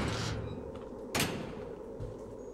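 A door opening in the horror video game Layers of Fear (2023), a sharp sliding thump that cuts in partway through over a low, moody ambient drone, fairly close and distinct.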